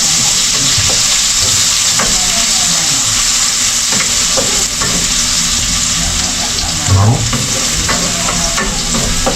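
Onion and ginger fry in a pan with a steady, loud sizzle and hiss throughout, broken by occasional stirring scrapes and a brief clunk near the end.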